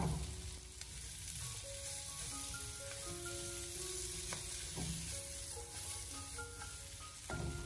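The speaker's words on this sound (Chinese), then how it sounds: "接着再继续的将它翻炒几下，把配菜给它翻炒至5成熟" Sliced onion with green and red chilli strips, added after fragrant garlic slices, stir-fried in a wok until half cooked: a steady close sizzle with occasional stirring scrapes, under soft background music.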